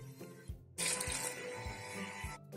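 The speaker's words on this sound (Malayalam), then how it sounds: "ഇനി കറിക്ക് ആവശ്യമായിട്ടുള്ള വെള്ളവും ചേർത്ത് കൊടുക്കാം" Water poured into a coconut-based sambar curry: a brief, quiet rush of running water starting partway through over soft kitchen background, with no talking.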